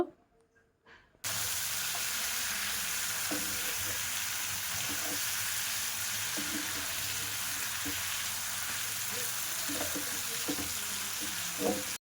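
Chicken sautés in a pan with chili powder and turmeric, giving a steady, close frying sizzle with scattered stirring scrapes that runs nearly the whole clip after a brief quiet start.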